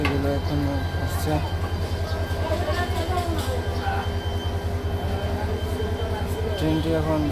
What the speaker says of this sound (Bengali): ট্রেনটি এখন সিলেটের উদ্দেশ্যে রওনা দেবে।